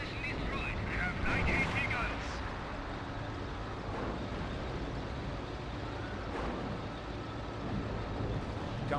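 A Teller mine blowing up beneath units in Company of Heroes 1: rumbling explosion and artillery-like battle noise rolling on for several seconds, with a brighter burst early, all at a steady loud level.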